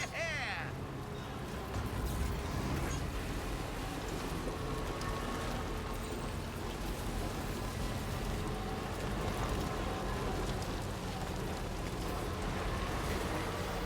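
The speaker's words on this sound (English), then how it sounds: "Given that there's, like, eternal timefall going on over there." Timefall rain in Death Stranding 2, a constant dense patter of rainfall spread evenly through the whole stretch, with someone talking over it.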